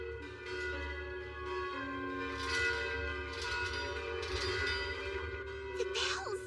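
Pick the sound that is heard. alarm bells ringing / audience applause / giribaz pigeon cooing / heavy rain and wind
alarm bells ringing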